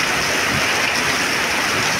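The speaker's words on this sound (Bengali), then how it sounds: "দেখতে পাচ্ছেন আবারও বৃষ্টি" Steady heavy rain falls in flood-hit Arambagh, a loud, even wash of dense patter that stays constant throughout with no other sounds on top.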